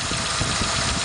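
A car engine idles up close with a vaporizer fitted, a loud, dense, even rumble with a faint rhythmic pulse throughout.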